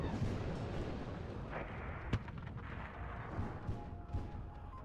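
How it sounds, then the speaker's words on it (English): Mortar fire in the WARNO strategy game thuds and cracks as a muffled, dense layer of distant impacts and explosions, with one sharp nearer blast standing out amid the rumble. "These units are about to go into all of this fire from the mortars"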